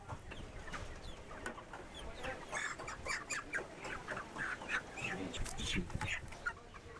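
Broiler chickens at a busy poultry shop cluck and squawk in repeated, uneven bursts close by, with a steady murmur of market noise underneath.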